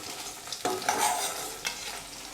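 Cubes of paneer fried in a pan for restaurant-style chilli paneer give a steady, close sizzle with a few sharp scraping stirs, no voices.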